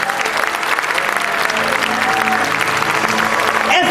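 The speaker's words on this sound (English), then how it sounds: "These children deserve a bigger round of applause" Audience applause for the child performers after a stage play, a dense, loud, steady wash of many hands clapping with a few faint tones underneath, lasting throughout.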